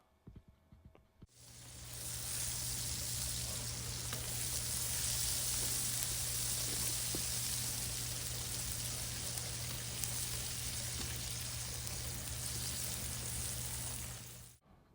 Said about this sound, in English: take the microwave potatoes that I've cut in half and lay them directly into the butter